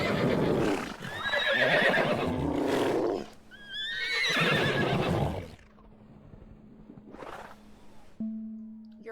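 A horse in the video game Everything gives two loud whinnies in bursts with clip-clopping hooves, followed by quieter sounds and a faint final tone.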